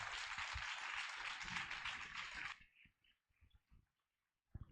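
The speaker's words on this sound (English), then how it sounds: "can we have a huge round of applause to these gentlemen right here?" An audience at a magazine launch applauds for about two and a half seconds in a dense, steady burst, then the clapping breaks off into a few scattered claps and quiet room noise.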